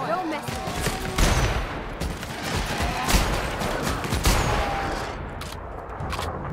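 Repeated bursts of gunfire from a gun in The Outer Worlds, punchy shots arriving in clusters over several seconds, loud and close, with background game noise and occasional voice.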